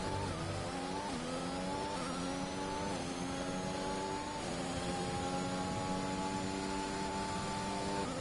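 An F1 race car in the F1 2021 video game, its engine a loud, continuous high-pitched scream that rises and falls in steady pitch sweeps through gear changes, heard from onboard with no talking.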